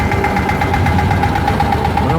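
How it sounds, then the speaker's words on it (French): A vintage Babiole tractor engine runs at a steady idle during a parade of old tractors, a continuous mid-pitched mechanical drone with faint voices in the background. "Je pense qu'ici, ça c'est le tracteur Babiole."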